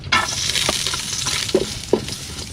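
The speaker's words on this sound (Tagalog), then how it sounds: "Gisa muna tayo" Ginger, garlic and onion sauté in oil in a pan while cooking in Mindoro, Philippines, giving a steady close sizzle broken by a few sharp utensil scrapes and clinks against the pan.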